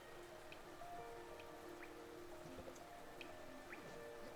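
Rain in Hollow Knight falls as faint, scattered drips and soft patters, quiet and steady beneath low, sustained game music tones.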